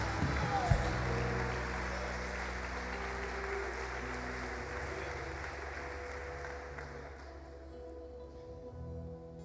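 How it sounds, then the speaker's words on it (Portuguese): Congregation applause in a church, a broad wash of clapping that slowly fades across the clip, with a voice and low sustained music underneath. "você pode dar uma salva de palmas ao Senhor Jesus?"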